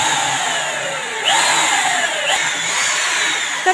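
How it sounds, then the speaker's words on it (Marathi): An electric drill runs steadily with a whining motor, boring into plywood as a carpenter works on a sewing-machine setup. Its pitch shifts as the bit bites and eases off, close by and continuous for a few seconds. "आणि ते करणार आहेत आता प्लाऊडला ड्रिल"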